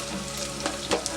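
Onions and curry leaves frying in a pan, a brief steady sizzle with a couple of louder crackling spits, no talk.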